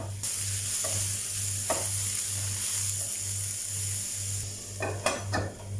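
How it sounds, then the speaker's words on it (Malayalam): Fenugreek leaves cook in a covered pan over a medium flame, giving a steady soft sizzle with a low regular pulsing hum, broken near the end by a few sharp clinks of a spoon or lid. "ഉലുവ ഇല ഇട്ട് നന്നായി മിക്സ് ചെയ്തിട്ട് അടച്ച് വെച്ച് ഒരു മീഡിയം ഫ്ലെയിമിൽ 3 മിനിറ്റ് വേവിക്കാം"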